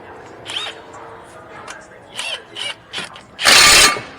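A ratchet tightening reused brake hardware bolts on a 2010 Honda Insight during a front brake job, giving several short clicking bursts and then a louder grinding run near the end, close and clear.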